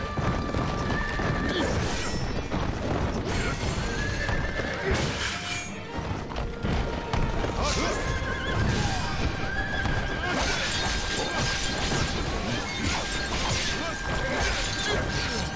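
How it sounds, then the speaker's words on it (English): Lu Bu's horse whinnies loudly during a leaping attack in the Wo Long: Fallen Dynasty video game, with pounding hoofbeats, crashing impacts and dense battle noise throughout the busy, continuous mix. "This is the horse leaping attack."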